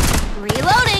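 Short burst of rapid gunfire in the battle game Farlight 84, loud and close, broken by a sharp cut with a rising electronic whine over game sounds for about a second.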